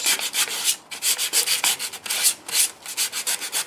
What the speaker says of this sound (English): So now I'm going to sand on it, see how that comes off.